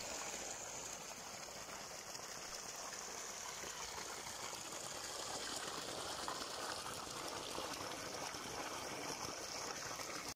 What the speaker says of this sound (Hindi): पानी का ये चश्मा देखा तो ये कुदरती तौर पर है